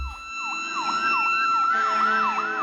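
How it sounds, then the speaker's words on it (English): Fire truck siren wailing loud and close in a rapid, regular up-and-down yelp, with an engine rumbling underneath and a steady tone joining partway through; no voices. "If someone were to yell, "Quick, look, there's a fire truck," would you think of this?"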